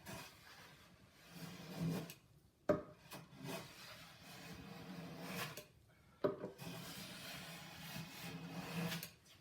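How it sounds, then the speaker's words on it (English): Smoothing hand plane taking off high spots across a wood surface, heard as repeated rasping, shaving strokes with brief sharp knocks between passes, fairly quiet and close with no talking. "I'm just working across the surface with my smoother, trying to take off the high spots"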